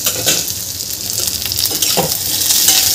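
Onion sautés in a pan as a close, dense sizzle and crackle with scraping stir strokes, holding steady and loud for a few seconds.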